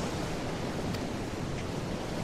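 Sea waves and wind wash steadily aboard a ship in Final Fantasy XIV, a constant broad rushing roar with no breaks.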